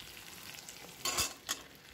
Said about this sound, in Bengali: ওই ভাজার মধ্যেই আমি 3টে ছোটো এলাচকে থেতো করে দিয়ে দিলাম